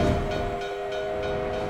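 A steady rumble of a passing train with faint rhythmic rail clatter, continuous and moderately loud throughout.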